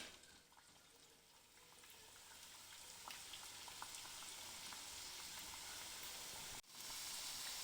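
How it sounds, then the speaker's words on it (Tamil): Potato samosas deep-frying in hot oil, a faint continuous bubbling sizzle that slowly swells, with a brief dip near the end before resuming. "எண்ணெய் சூடாயிடுச்சு, வாங்க போட்டு பொரிச்சிக்கலாம்"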